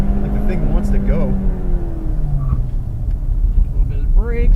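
An Evolution car's engine under throttle during a track driving session, a close, steady drone that rises and falls, with a driver talking over it throughout.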